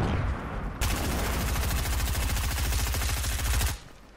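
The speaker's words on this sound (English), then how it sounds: "They're shooting you." Loud, fast automatic gunfire in Fortnite, a steady rattling burst of rapid shots lasting about three seconds before cutting off, with no voices over it.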